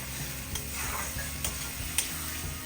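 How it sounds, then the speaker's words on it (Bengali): A thick rosuni dhonepata mixture is stirred continuously in a hot pan, steady scraping strokes over a low sizzle with a few sharper spoon clicks against the metal, close by and moderately loud. "এখন সেই জন্য কন্টিনিউয়াস নাড়তে হবে।"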